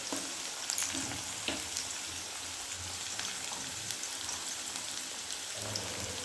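Potato pieces fry in a pan with a little salt, giving a continuous close crackling sizzle with scattered sharper pops and faint stirring scrapes, no talking.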